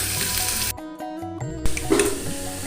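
Potatoes fry in a pan with a crackling sizzle that drops out briefly for a tonal musical passage, then returns with a couple of louder spatters.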